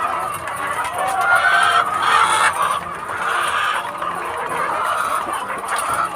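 Chickens clucking and squawking in a backyard coop after laying eggs, a steady overlapping chorus of several hens close by, with no talking.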